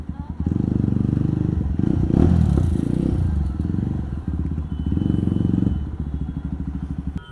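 A Jawa 42 Bobber motorcycle engine revs loudly up close, a steady throbbing drone with mechanical clatter that swells and eases over several seconds.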